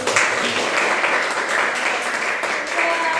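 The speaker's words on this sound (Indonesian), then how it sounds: "Sudah kembali bahagia lagi, tepuk tangan semua." A school class claps together in the classroom after a song, a brisk, sustained burst of many small hands, with voices mixed in beneath the clapping.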